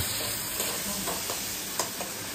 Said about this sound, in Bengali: আর মাংসের মধ্যে মশলা ছাড়া ভাজা হোক না।